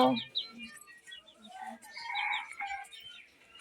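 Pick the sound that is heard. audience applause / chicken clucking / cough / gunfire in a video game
chicken clucking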